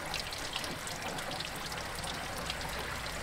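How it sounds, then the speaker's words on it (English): Water pouring out of a disconnected car hose, a steady close splashing trickle that runs continuously without pause, quiet and alone. "Water's coming through there fine."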